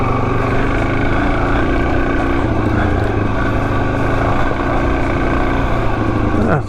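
A Suzuki DRZ400 motorcycle engine idles steadily in neutral, a continuous close rumble that holds at an even level throughout.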